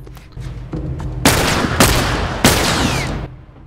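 Gunfire in The Last of Us, with three loud, sharp shots spaced about a second apart, each booming and echoing over a low rumbling background.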